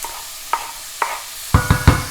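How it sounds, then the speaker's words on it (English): Onion, garlic and ginger paste hits a hot pan for a chicken curry, giving brief bursts of sizzle and scraping stirs, a few isolated hits then three quick close ones near the end. "So in goes our paste. You'll hear that lovely sizzle."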